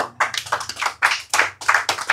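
An audience claps in short, uneven bursts, a brisk patter of hands with small pauses between groups. It sounds close and moderately loud, with no talking over it.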